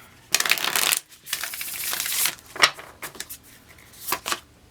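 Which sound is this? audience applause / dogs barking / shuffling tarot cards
shuffling tarot cards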